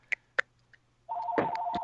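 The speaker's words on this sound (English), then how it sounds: "I hear your computer ringing now." An incoming Skype call rings on a computer, opening with a few short blips before a steady, loud, two-tone electronic ring takes over for the rest of the moment, with no talking.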